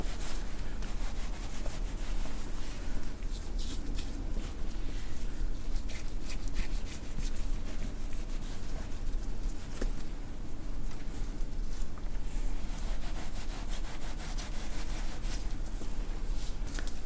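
Knife trimming a Japanese wagyu beef tenderloin, a steady close rubbing and scraping texture that carries on without a break and with no one talking.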